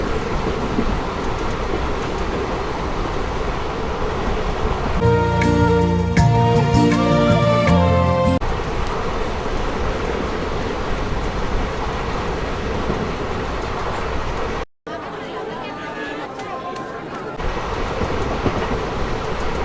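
The Seshadri Express, Kakinada Town to SMVT Bengaluru train 17210, runs with ICF coaches in a steady loud rumble and rattle, with a bright tonal clatter midway and a sudden cut near the end.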